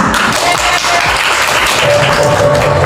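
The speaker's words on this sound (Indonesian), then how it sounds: "Tepuk tangan." In a school literacy gathering room, a group claps loudly and continuously, a dense wash of hand claps close to the microphone with faint voices underneath, holding at a steady, strong level.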